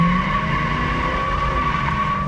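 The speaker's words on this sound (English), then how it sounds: "2-barrel carburetor, it can still burn the tires" A 1973 Ford Mustang Mach 1 with a 2-barrel carburetor does a burnout, its tires squealing in a loud, continuous screech over the engine's roar, close and unbroken throughout.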